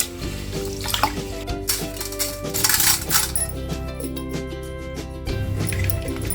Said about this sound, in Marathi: हे चांगलं पाणी गाळून घ्यायचं